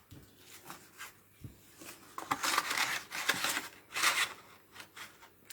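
Scissors snip away a small piece of cardstock that catches on a paper punch during card making: a few soft, close crisp cuts and paper rustles, fairly quiet, with no talking.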